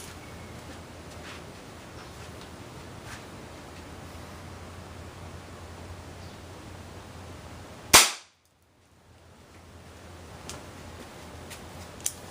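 A single sharp, close .22 rimfire shot fired through an orange cracks once against quiet background hiss, followed by a brief near-silent pause before the room noise returns.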